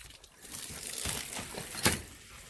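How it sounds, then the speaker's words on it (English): A garden hose unhooked from a frost-free hydrant in a barn drains with a hissing, gurgling rush of water and air that builds, then ends in a sharp burst. "unhook the hose off the frost free, and watch the surge of the air pressure"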